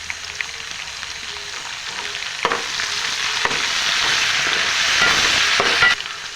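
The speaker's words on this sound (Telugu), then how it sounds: "ఇది కొత్తిమీర వేస్తున్నాను." Coriander and fenugreek leaves fry in a hot pan for mutton biryani, a close, steady sizzle that swells louder, with a few sharp stirring knocks against the pan.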